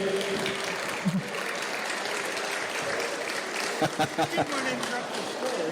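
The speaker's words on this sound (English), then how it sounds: "Round of applause, please." An audience claps for Tim Rose at a Star Wars fan convention, a steady, dense round of applause filling the hall, with voices and a few louder claps near the end.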